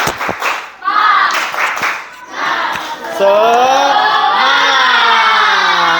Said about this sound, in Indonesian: Silakan tepuk semangat 1.